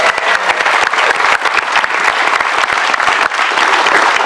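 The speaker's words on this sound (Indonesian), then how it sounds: "Tepuk tangan untuk Ibu Titu." Studio audience at an insurance forum on Metro TV applauding a guest introduction, loud, close, continuous clapping from many hands for about four seconds with no speech.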